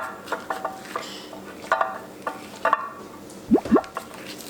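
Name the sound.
mixing seasoned rice in a bowl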